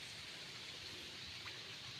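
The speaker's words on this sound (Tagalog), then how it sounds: "umuulan na naman mga kabraso umuulan ngayon" Steady rain falling outdoors, a faint, even hiss of drops with no distinct gusts or voices, continuous across the short stretch.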